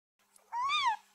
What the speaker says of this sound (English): Wait, is that a kitten?